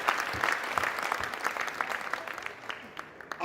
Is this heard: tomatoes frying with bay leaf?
no